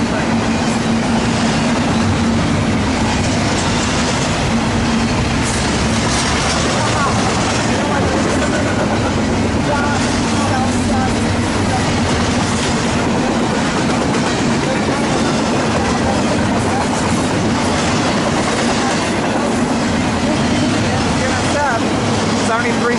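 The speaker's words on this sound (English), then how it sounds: "it looks like a Z train." A BNSF Z-train intermodal freight rolls past at Daggett, a loud, steady rumble and clatter of wagons over the rails running the whole time without a break, with voices audible now and then over the passing train.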